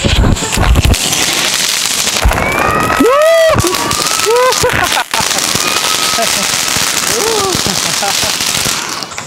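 A fountain-type firecracker, a puswanam, hisses and crackles loudly and continuously, with whistling rising streaks and bright sputtering bursts, while voices are heard amid the noise.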